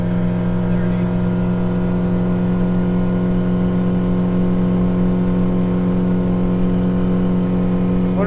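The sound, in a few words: Honda 90HP outboard motorboat engine at full throttle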